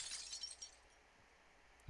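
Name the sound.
glass shattering sound effect, Granblue Fantasy video game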